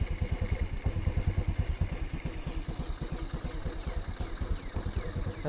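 A 2022 Honda Navi scooter engine runs with its rear wheel spinning, a loud, close, rapid rhythmic chugging and clatter that holds steady at fairly low revs throughout.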